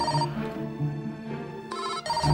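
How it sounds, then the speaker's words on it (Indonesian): A telephone rings indoors with a steady repeating electronic ringtone pattern, loud and close, heard alone. "itu kayaknya telepon bunyi deh"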